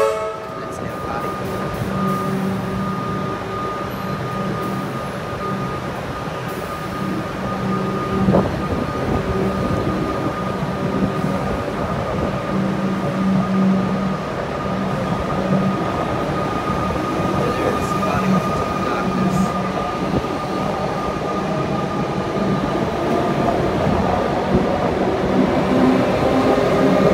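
Continuous rumbling and rattling of a train running through Carnegie station, steady and close, with a faint whine and occasional clunks.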